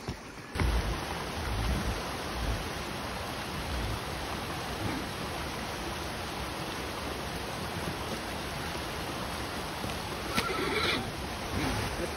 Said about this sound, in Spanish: Gracias a Dios empezó a llover.